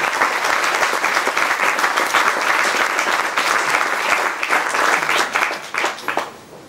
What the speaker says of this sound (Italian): a cui dedicherei un applauso di ringraziamento